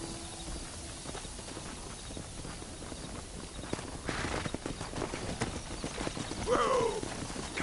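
Horse hooves clip-clop steadily on the ground in the video game Red Dead Redemption, a moderate walking rhythm under ambient game noise, with a short neigh near the end.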